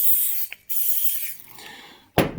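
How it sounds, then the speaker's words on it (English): Aerosol spray hisses onto a circuit board in a Warn ProVantage 3500 winch repair, two short bursts separated by a pause, then a third loud burst at the end, close and unaccompanied by speech. "Bit of spray. Can't go wrong with some spray"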